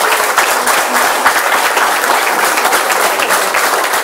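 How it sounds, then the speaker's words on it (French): A loud crowd applauds a second-round election victory, dense continuous clapping close up and sustained at full strength throughout, with faint voices mixed into the din. "je veux qu'on s'applaudisse ce soir pour cette victoire."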